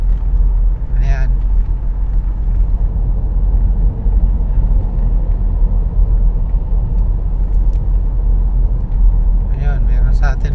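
A red Audi overtakes through light traffic in the Ayala Tunnel in Manila. Heavy, steady road and engine rumble fills the enclosed space, with faint brighter swells as vehicles pass close by.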